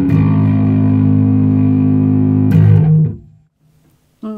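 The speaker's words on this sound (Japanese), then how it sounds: "エレベの方は歪みは、メインで今ローデンバーグを使っています" Electric bass played through a Rodenberg distortion pedal, a loud, thick, sustained distorted note ringing for about three seconds before being cut off, then a brief new attack.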